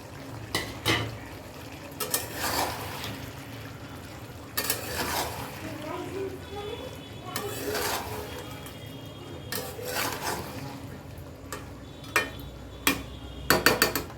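Chopped medium onions and half a head of whole garlic dropped into a cooking pot for a Bengali country chicken curry, with scattered clattering, scraping and knocks of pot and utensils, close, in irregular bursts.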